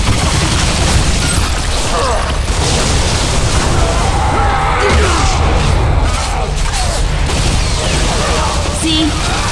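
A spore bursts after being shot in the video game Bulletstorm, a deep, loud boom within a dense, continuous wash of game noise and rumble, with voices talking over it.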